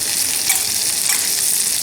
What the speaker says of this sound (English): Don't be afraid of the sizzling fat in here